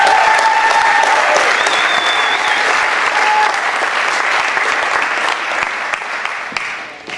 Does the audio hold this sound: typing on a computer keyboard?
no